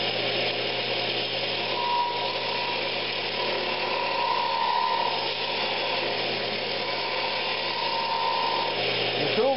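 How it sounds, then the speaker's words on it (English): A woodturning lathe hums steadily while a carbide cutter on a homemade 3/8 bar hollows out a wooden Christmas ornament, giving a continuous close scraping and whirring with faint tonal whines throughout. "Now I'm just going to start kind of hollowing it out."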